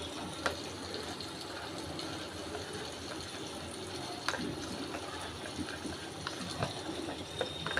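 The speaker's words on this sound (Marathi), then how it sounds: "त्यात मी आता थोडं पाणी घालून हा मॅगीचा मसाला मिक्स करून घेणार आहे" Water is poured and stirred into Maggi noodle masala in a small bowl, making a faint, steady trickling wash with light clinks from the spoon.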